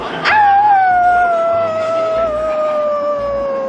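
A person at a Halloween event at Magic Kingdom imitates a howl, with one long, sustained wavering note that slowly falls in pitch, close and fairly loud.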